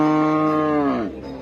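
A cow gives a single loud, close moo at a busy cattle market, a sustained low bellow that bends downward at the end and fades into the surrounding noise.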